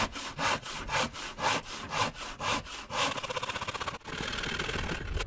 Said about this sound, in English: let's do some serious sawing